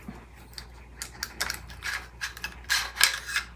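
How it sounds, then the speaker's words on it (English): Metallic mechanism clicks and slides as the charging handle of a Sig Sauer M400 rifle is pulled back and the bolt carrier group removed; a quick series of close, crisp clacks and scrapes, growing busier toward the end. "now we want to pull the charging handle back and remove the bolt carrier group"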